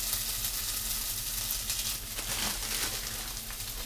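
Pre-fried potatoes and onion reheating in a pan give off a steady, close sizzle with a soft hissing crackle that stays even throughout, with no voices.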